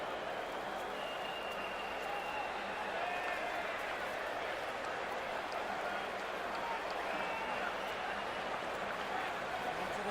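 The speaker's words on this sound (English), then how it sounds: "It's a great crowd in today with plenty of atmosphere around this ground." Steady crowd roar and cheering fill a stadium before an India versus Pakistan cricket match in the video game Cricket 24, a continuous broad wash of noise with no clear breaks and no talk over it.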